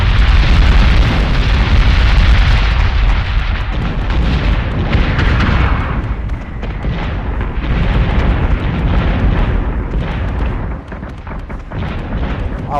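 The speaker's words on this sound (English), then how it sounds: "A lot of missiles got through that flak wall." Missiles and flak detonating in a space battle in Battlestar Galactica Deadlock, a loud dense barrage of booming blasts and rumbling bursts that ebbs slightly midway and then keeps pounding.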